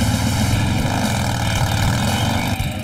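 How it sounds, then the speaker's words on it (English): Motorcycle engines, an old Knucklehead and a newly built Panhead chopper, rev hard on a dyno, a loud continuous droning roar held steady throughout with no talk. "The dyno measures engine power, and Jason's old knucklehead is no match for"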